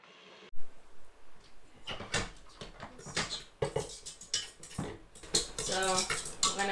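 Sweet potato cupcake batter being mixed in a bowl: a series of uneven scraping, clinking and knocking strokes of a utensil against the bowl, close by and moderately loud, quickening toward the end.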